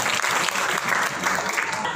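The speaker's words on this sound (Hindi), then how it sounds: "फिर जोरदार तालियां होना चाहिए" Loud, sustained crowd applause at a Defense Day celebration following a taekwondo demonstration, dense clapping filling the whole stretch without pause.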